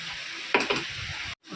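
Steady hiss of a spice tempering sizzling in hot oil, with a couple of brief stirring scrapes and a short break in the frying noise.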